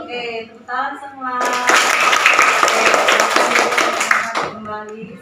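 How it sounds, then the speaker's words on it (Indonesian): A class of schoolchildren claps their hands together for about three seconds, a dense, loud burst of applause framed by a speaking voice before and after. "Oke, tepuk tangan semua."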